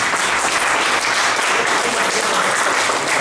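A church congregation bursts into loud, sustained applause for Christ, dense clapping from many hands filling the room evenly for a few seconds.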